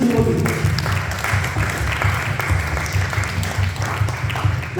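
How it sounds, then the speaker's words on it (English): An audience at a Bhagavad Gita talk claps steadily for two devotees, dense even applause filling the room for the whole stretch. "Please give a round of applause to these 2 devotees."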